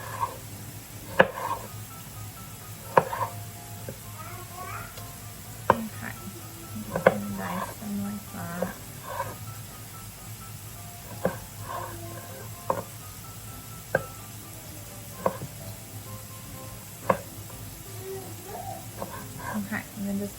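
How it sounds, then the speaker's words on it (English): Kitchen knife cutting a tomato for a gluten-free potato crust quiche, a series of sharp, light taps against a cutting board at an irregular pace, close and moderately quiet over a steady background hum. "I am going to cut a tomato."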